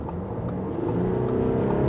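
A 2020 Audi A6 allroad quattro estate in dynamic mode pulls hard to overtake from about 50 to 80 km/h. The engine note climbs smoothly and steadily, loud and close, in one short burst without talk.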